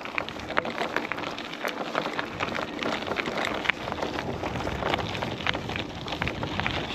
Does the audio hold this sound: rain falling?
yes